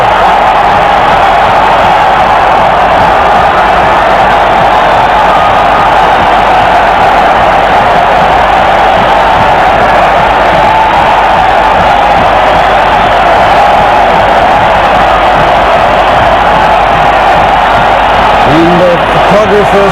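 Loud, dense stadium crowd roaring and cheering in El Salvador after a goal in a 1997 World Cup qualifier against Canada, a sustained wall of voices across the whole stretch with a commentator talking over it.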